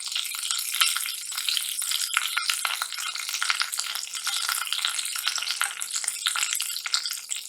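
Finely chopped garlic and curry leaves sizzling in hot oil while cooking chicken 65 gravy, a steady, close crackling fry with small spits and pops, no talking.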